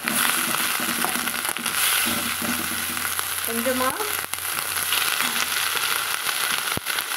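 Spinach and garlic sauté in a hot pan, giving a loud, continuous sizzle and crackle with occasional scraping stirs, close up and without talking.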